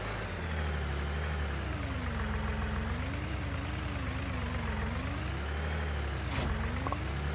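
A truck engine drones steadily while reversing a touchy trailer in Farming Simulator 19, its pitch rising and falling with throttle, and a short hiss of air brakes near the end, loud and continuous with no talking.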